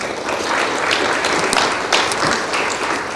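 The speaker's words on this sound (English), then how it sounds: "That deserves, I think, a big round of applause." An audience at a school district event gives loud, sustained applause, a thick wash of many hands clapping together throughout with no talk over it.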